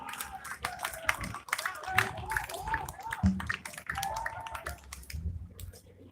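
An audience in Samoa claps for the Solomon Islands team, a steady patter of hand claps running beneath someone speaking over a microphone.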